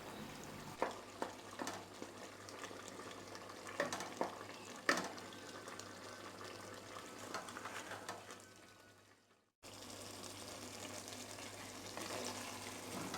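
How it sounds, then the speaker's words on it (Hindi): Turnips being mashed and fried down in a pan, with scattered scraping and stirring knocks over a steady soft sizzle, a brief gap near the end before the quiet frying resumes. "इनको मैश कर लेंगे और इसका पानी खुश्क कर लेंगे। इसी दौरान में ये अच्छी तरह से इन्हें भून भी लेंगे"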